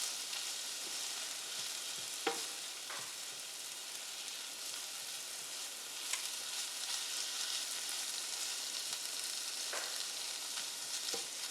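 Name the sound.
corn sizzling as it roasts in a pan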